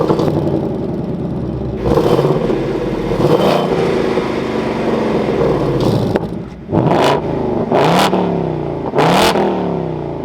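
A 2024 Ford Mustang Dark Horse Premium's engine revs through its exhaust, a steady rumbling idle broken by three sharp, loud throttle blips near the end, each rising and falling quickly.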